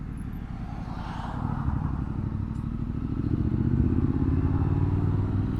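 A 2021 Triumph Street Scrambler runs steadily on the road, its engine droning close and loud with a rough, throbbing texture that swells slightly as it pulls along, with no voices.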